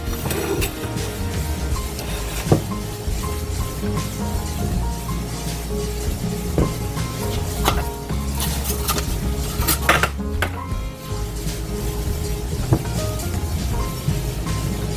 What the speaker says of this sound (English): But first we're going to get our rolls in the pan.